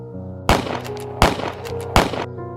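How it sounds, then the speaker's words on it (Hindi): Three sharp, loud gunshots fire at even intervals of roughly three-quarters of a second, each a sudden crack with a brief decaying tail over a low steady hum, used as a dramatic sound effect. "3 गोलियां प्रेम के सीने में उतर गईं।"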